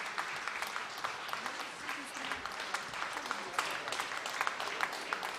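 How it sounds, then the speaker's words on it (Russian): A concert hall audience at a music festival applauds, dense sustained clapping from many hands at a moderate distance, with crisp individual claps scattered through the steady patter. "Не забывайте свои подарки под аплодисменты зала."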